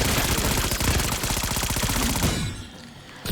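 Saug SMG in Black Ops 6 Zombies firing a rapid, loud continuous burst of close shots for about two seconds, then stopping and leaving a quieter tail.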